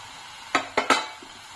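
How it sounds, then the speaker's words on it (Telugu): Mushrooms go into a pan with onions and chilli powder for a dhaba-style mushroom fry, marked by three quick metallic clinks of a utensil against the pan over a faint background hiss, with no talking. "ఇప్పుడు మనము మష్రూమ్స్ వేసుకుందాం ఇందులోకి."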